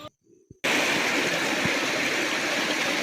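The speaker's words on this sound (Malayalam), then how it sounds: "വീണ്ടും ഒരു ചെറിയ അരുവിയും കൂടെ കടന്നുപോയി." A small forest stream on the Sabarimala pilgrimage trail through the Kerala forest: after a brief quiet moment, a steady, loud rush of flowing water starts and fills the rest of the clip.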